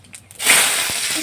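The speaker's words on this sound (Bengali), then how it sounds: "শুকনো লঙ্কা, তেজপাতা, এখানে আমি জয়িত্রী নিয়েছি, গোটা গরম মশলা তেলের উপর দিয়ে দিলাম।" Whole garam masala, dry red chilli, bay leaf and mace drop into hot oil, giving a short quiet lead-in and then a sudden, sustained sizzling hiss up close.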